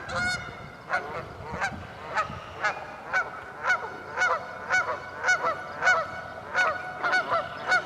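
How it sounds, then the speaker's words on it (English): Geese flying in to land on a lake honk repeatedly in a loose, steady series of nasal calls, moderately near, with no talking. "Geese flying in for a landing."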